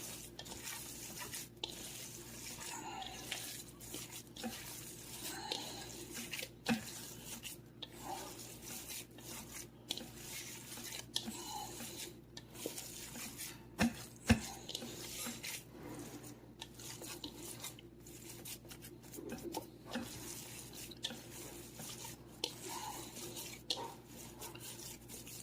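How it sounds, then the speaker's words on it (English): A meatloaf mixture dosed with Frank's hot sauce and bacon is stirred in a bowl, giving soft continuous wet squishing and scraping, faint and close, with quiet occasional taps against the bowl. "And now we're going to mix that again."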